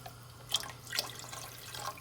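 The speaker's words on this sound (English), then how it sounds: "I'm going to actually add just a touch more water to this as well." Water trickles and drips into a pot of vegetable stock for ramen, with a couple of brief splashy bursts over a quiet kitchen background and no talking.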